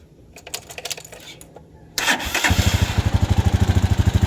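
A motorcycle engine cranks and catches, then settles into a loud, steady rhythmic idle with clear pulsing beats; faint clicks come first.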